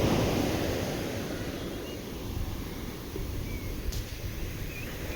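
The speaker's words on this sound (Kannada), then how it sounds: "ಇಲ್ಲಿ ಎಷ್ಟು ದೊಡ್ಡ ಅಲೆಗಳು ಸೌಂಡ್ ಕೇಳಿದ್ರೇ ಭಯ ಆಗುತ್ತೆ." Large ocean waves crash and roll onto a beach in Udupi, a loud, continuous broadband surf roar that swells and eases slightly, with wind noise buffeting the microphone.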